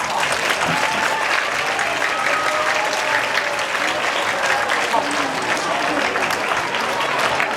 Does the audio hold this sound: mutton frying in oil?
no